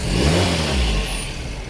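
A car engine idles steadily at close range with a low-idle vibration problem, a continuous low hum with a slight rev near the start, no voices over it.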